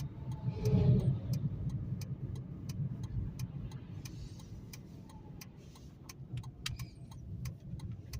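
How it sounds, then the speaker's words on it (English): A steady low whirring hum from a Chrysler PT Cruiser's radiator cooling fan runs throughout, with faint intermittent ticking and clicks above it, and no voices. "Yeah, I think I hear the fan running."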